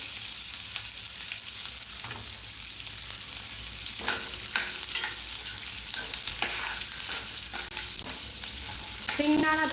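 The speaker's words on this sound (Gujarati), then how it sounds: "સિંગદાણા એડ કરી લેશું અને મરચાં પણ એડ કરી લઈશું" Peanuts and green chillies frying in oil in a pan for hotel-style poha, a steady close sizzle with occasional scraping stirs and light clinks, continuous throughout with no voices.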